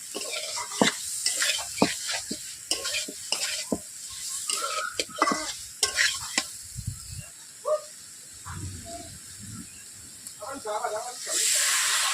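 Potatoes being sautéed in a pan for rui fish curry: a soft, uneven sizzle with frequent spatula scrapes and taps, nearby and moderately quiet, with a louder hissing burst near the end.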